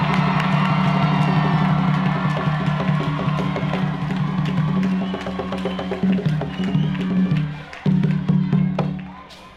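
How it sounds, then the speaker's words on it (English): A graduation crowd roars with loud sustained cheering, whoops and clapping for the graduates, a dense wall of voices that swells and then breaks into scattered shouts and applause before fading near the end. "we want everyone to give all the graduates one loud, last big cheer"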